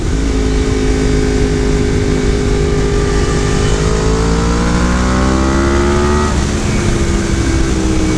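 A Yamaha R1M motorcycle rides at speed, its engine revving loud and close with rising pitch through acceleration, a brief gear change, then climbing again under steady wind roar.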